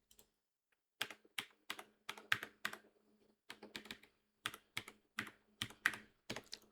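Computer keyboard typing a browser address: distinct, close keystrokes in short irregular bursts with brief pauses in between, loud against a quiet background.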